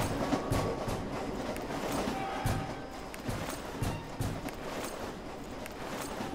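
A passenger train rolls along in the Roblox Jailbreak video game, giving a steady rumble with rhythmic clickety-clack from the wheels that holds at a constant level throughout, with faint noise on top.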